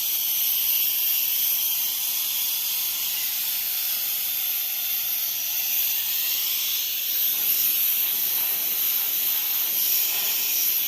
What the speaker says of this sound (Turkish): Baya buhar var. Yani buhar şöyle göstereyim.